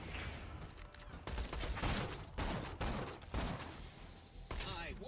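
Rapid gunfire in the video game Borderlands 2 comes in repeated loud bursts of shots separated by brief gaps, with dense crackling impacts throughout.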